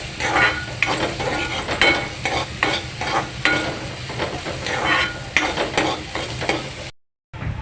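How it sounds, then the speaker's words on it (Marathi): Chopped onion fries to reddish-brown in a pan as the base for prawn masala. Loud, close sizzling runs under rhythmic scraping stirs, then the sound drops out briefly at the end. "कांदा छानपैकी लालसर भाजून झालेला आहे"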